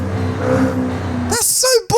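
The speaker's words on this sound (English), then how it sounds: "it's that really generic turbo blow off stupid thing" A generic turbo blow-off from a car in Forza Horizon 5: steady engine drone, then a loud, sharp hissing whoosh near the end followed by a second brief burst.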